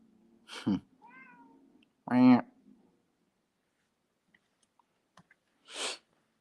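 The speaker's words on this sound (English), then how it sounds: "my cat's there" A house cat meows twice, short and close, with a brief pause between calls, followed by a soft sneeze-like puff, in an otherwise quiet room.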